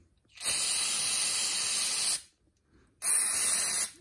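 Aerosol cleaner sprayed onto the hot-wire element of a 2.7 EcoBoost Ford F-150 MAF sensor, two close, loud hissing bursts, the first lasting nearly two seconds and the second shorter after a brief pause.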